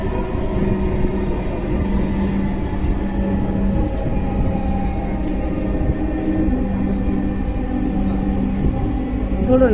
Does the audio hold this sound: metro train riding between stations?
yes